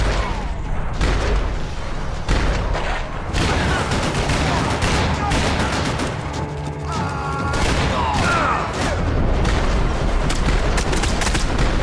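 Dense video game gunfire, loud, repeated bursts and single shots in a continuous barrage throughout, mixed with booms and crashes, with a player's voice talking over it.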